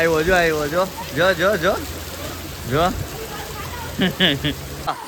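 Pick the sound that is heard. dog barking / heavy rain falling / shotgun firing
heavy rain falling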